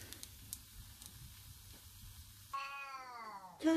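A domestic cat meows indoors, one drawn-out, harmonic call near the end after quiet background crackle, followed by the start of another, close and fairly clear.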